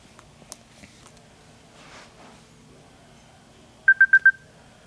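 Incoming phone call alert on a Kenwood KMM-BT515HD car stereo: four quick, evenly spaced electronic beeps near the end, after a quiet stretch with faint handling noises and no talking.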